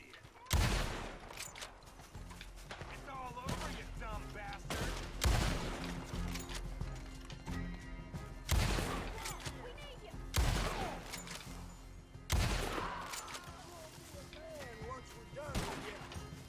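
Rifle fire from the Evans carbine in Red Dead Online, five loud, sharp shots spaced a few seconds apart, each followed by a ringing echo, with someone talking in between.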